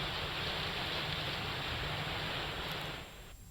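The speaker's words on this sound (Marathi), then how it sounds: "जळगावच्या 40 गावात गेल्या काही तासांपासून मुसळधार पाऊस बरसतोय" Heavy rain falls over villages near Jalgaon during a cloudburst-like downpour, a dense, even hiss that holds steady before easing off near the end.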